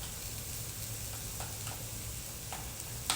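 Mushrooms cooking in a pan give a faint, steady sizzle with occasional soft ticks and pops, heard alone without talk.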